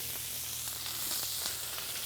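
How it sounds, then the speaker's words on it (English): Chopped onions sizzle in hot oil for a venison Philly cheesesteak, a close, continuous crackling hiss with small pops and no voices. "You want to hear that sizzle."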